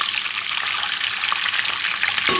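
Boiled eggs frying in a pan, a steady bright sizzle of hot oil running continuously and close, with no talk.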